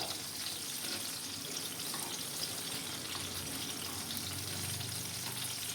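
Tomatoes frying in oil in a pan while being turned over, a steady close sizzle with soft stirring scrapes and no talking.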